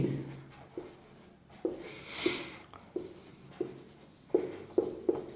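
Chalk or marker strokes on a board during a maths lesson on divisibility rules, a run of short taps and scratches spaced about every half second, moderately close, with no talk over them.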